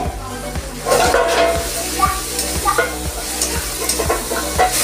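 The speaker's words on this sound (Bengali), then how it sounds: "আমার পেঁয়াজ চিংড়ি মাছটা ভাজা হয়ে গেছে" Shrimp and onion fry with salt and turmeric, giving a loud, close sizzle. Regular scraping strokes of a spatula stir the pan throughout.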